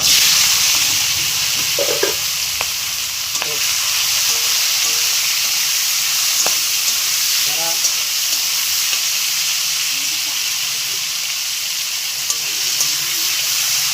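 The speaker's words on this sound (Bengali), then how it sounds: "আলু, পেঁয়াজ কলি সব একসঙ্গে দিয়ে দিলাম। এটা এখন কিছুক্ষণ ভাজা হোক" Potatoes and spring onions frying in a pan make a steady hissing sizzle with faint scattered clinks of stirring, close and constant for the whole stretch.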